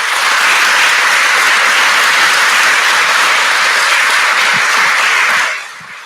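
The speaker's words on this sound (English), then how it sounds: "we certainly owe them a round of applause" Loud, dense audience applause at an Oxford net zero conference, sustained as a steady wash of clapping before tapering off abruptly near the end.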